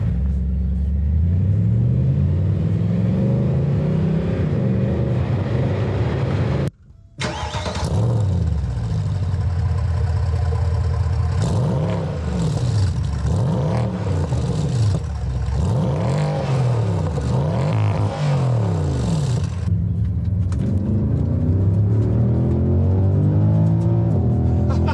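A Mercedes-Benz SL 63 AMG with a naturally aspirated V8 revving repeatedly, its deep engine note rising and falling in loud close sweeps, with a brief cut partway through and no talk.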